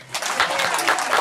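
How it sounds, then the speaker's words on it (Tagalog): A brief burst of audience applause at a lively Filipino family gathering, dense scattered claps swelling quickly and holding steady. "palakpakan naman natin si God"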